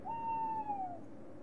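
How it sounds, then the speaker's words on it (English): Owl in the video game Boogeyman giving a single long, clear hoot that slides slightly downward at the end, heard alone over a low ambient background. "Oh, the owl's coming back."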